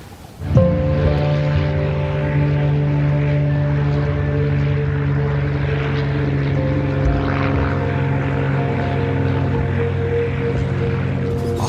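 A stolen propeller aeroplane in flight in a film scene, its engine drone steady, loud and close with a throbbing tone that holds for over ten seconds, heard without talk.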